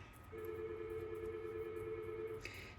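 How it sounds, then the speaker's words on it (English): A telephone rings indoors in a home craft space, sounding as one steady electronic tone that holds for about two seconds before cutting off, with faint room noise and no talking. "sorry about the phone ringing"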